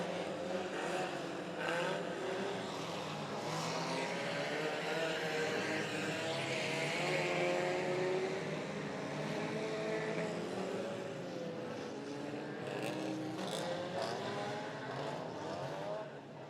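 Several demolition derby car engines roar and whine continuously at a distance, revving and droning together with a steady crowd-like wash of noise, no speech.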